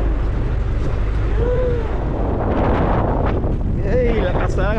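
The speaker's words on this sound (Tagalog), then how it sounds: "lakas na ng hangin" Strong wind buffets the microphone beside a fast-flowing river where traps are being checked, making a constant heavy low rumble while people talk over it.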